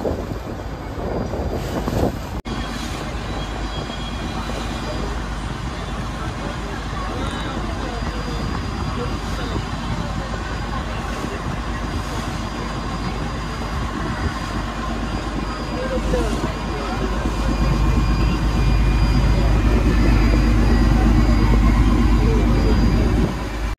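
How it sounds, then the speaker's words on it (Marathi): A boat moving on the grey sea off Mumbai gives a continuous loud engine rumble with wind buffeting, swelling heavier toward the end. "तर हा निळाशार अथांग समुद्र, त्यामध्ये आपली होडी."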